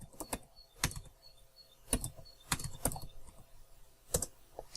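Keystrokes on a computer keyboard as a Linux add-user command is entered, in short irregular bursts of sharp, close clicks with brief pauses between them.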